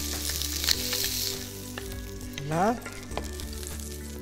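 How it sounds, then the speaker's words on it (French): Fish sizzles loudly in a Brabantia frying pan, a steady close frying hiss with a brief scrape as it is turned and a single short word spoken. "c'est sans difficulté que je retourne le poisson qui ne s'est pas collé contre la poêle"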